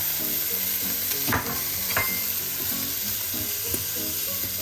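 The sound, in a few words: bacon lardons and chestnuts sizzling in pan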